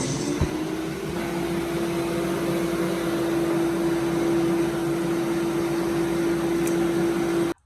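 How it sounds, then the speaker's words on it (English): A hooded hair dryer set to high heat and high speed runs steadily throughout, a constant close whirring roar with a sustained hum, ending abruptly as it shuts off. "Let me get under this dryer."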